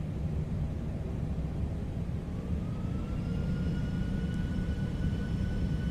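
Toliss A319 jet engines spooling to takeoff thrust in the X-Plane 12 flight simulator, a steady loud roar with rising whining tones gradually climbing in pitch, no speech.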